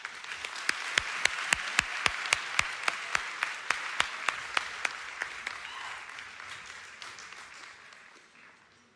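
Applause for high school cross country and track athletes at an awards event, a crowd clapping steadily with one sharp, regular nearby clap standing out, gradually fading over several seconds.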